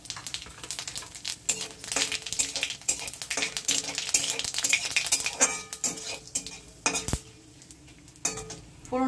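Bay leaves, a dried chilli, small cardamom pods and cumin seeds sizzle in hot oil for chickpea ghugni, with busy clinks and scrapes of a spoon stirring in the pan over a steady frying hiss.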